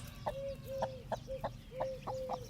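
Indian game rooster and hens in a coop cluck in a steady series of short, close calls, each with a brief sustained tone, repeating about every half second with no talk.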